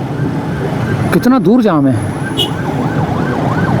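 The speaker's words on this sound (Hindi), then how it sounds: "यहाँ पर एम्बुलेंसें भी फंसी हुई हैं" Wailing ambulance siren sweeping up and down while stuck in a traffic jam on a city road near Baloch Colony, loud and close at first then continuing more faintly, with someone speaking over it and steady traffic rumble.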